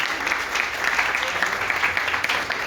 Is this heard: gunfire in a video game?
no